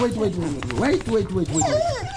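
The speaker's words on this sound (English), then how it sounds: "The dogs are waiting." Several dogs whimper and whine in rising, wavering cries while waiting to be fed, close by and fairly loud, with rhythmic low thumps and some voices mixed in.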